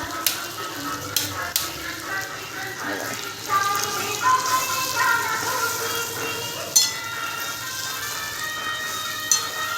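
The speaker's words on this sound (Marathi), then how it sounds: "मसाला चांगला फ्राय करून घेते आता कमी गॅस करते" Stuffed eggplant in black masala fries in a kadai, giving a close, steady sizzle and crackle with occasional metallic clinks of stirring, under faint background voices.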